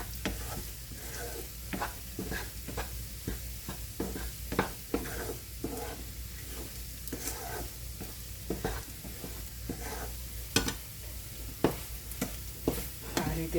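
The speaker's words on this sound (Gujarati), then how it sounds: "આ રીતે બ્રાઉન કલરની થાય ત્યાં સુધી આપણે શેકાવા દેવાની છે." A methi paak mixture is roasted over low heat in a pan until it browns, with a soft continuous sizzle and irregular scraping taps from constant stirring.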